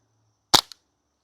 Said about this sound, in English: I'm just gonna be firing down at that purple target downrange.